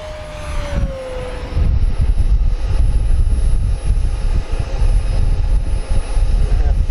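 An FMS P-47 Razorback 1500mm RC model airplane flies overhead, its electric motor giving a loud, steady droning whine with a pitch sweep as it passes, continuous for several seconds.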